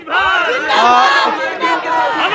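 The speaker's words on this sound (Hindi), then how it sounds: "बड़ी भीड़ यहाँ पर इकट्ठा हो रही है।" Large crowd gathered at an outdoor political rally for Om Prakash Rajbhar, a loud dense mass of voices and shouts close by, with talk mixed into the din.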